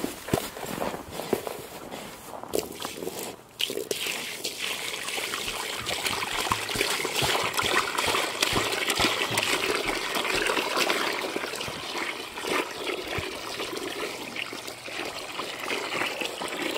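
Water poured or trickling steadily for backyard chickens, a continuous near splashing stream lasting the whole stretch, with a few footsteps and light knocks early on.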